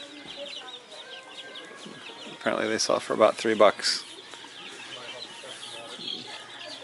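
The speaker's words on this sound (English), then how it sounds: "the chickens are back at Farm and Fleet. There are 6 tubs full of them" Chickens cluck from tubs at a Farm and Fleet farm store, a brief burst of several clucks and squawks partway through, while a person talks throughout.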